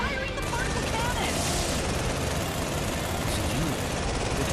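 Anti-ship particle cannon firing in a mecha video game, a loud dense roaring blast of broadband noise sustained for several seconds without letup.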